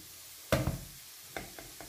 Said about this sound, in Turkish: iyice de bir kızartalım ondan sonra.